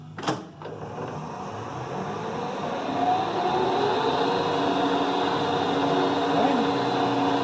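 A Clausing Colchester 12 gear-head lathe runs steadily in a workshop, a sharp clunk at the start giving way to a continuous mechanical whir and hum that rises slightly in pitch partway through and then holds.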